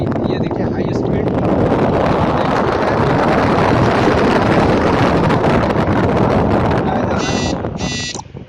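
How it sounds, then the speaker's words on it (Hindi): A loud, steady whooshing rush of air from an air cooler's DC fan motor running at high speed, constant throughout, with a couple of brief clicks near the end. "ये डीसी मोटर और इसकी ये देखिए हाई स्पीड,"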